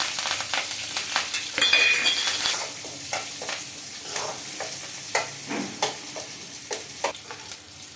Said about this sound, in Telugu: తాలింపు బాగా ఫ్రై చేసుకోవాలి